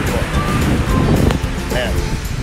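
Sea waves and wind roar along a coastal road in Dilasag, Aurora, with steady broadband wind buffeting the microphone and surf noise, loud and close throughout.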